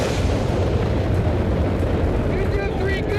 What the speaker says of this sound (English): Hey, bomb inbound, come on!